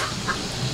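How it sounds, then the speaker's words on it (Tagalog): A chicken clucks briefly nearby, a short soft call with nobody talking. "Sali na naman daw yung manok ko sa video."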